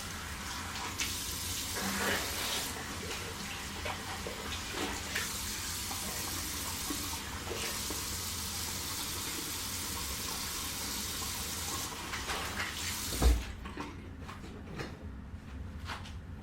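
A tap runs water steadily while someone rinses off in a bathroom, giving a continuous soft splashing hiss with small bumps and a brief clunk near the end before it quiets.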